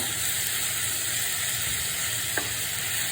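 Ginger frying in oil for ginger pickle gives a steady, close, even sizzle, with a brief faint clink near the end.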